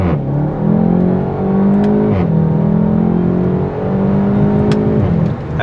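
A 2016 VW Golf 7 GTI Clubsport with a free-flow exhaust accelerates hard. The engine revs climb in loud, close pulls, broken by brief dips at gear changes.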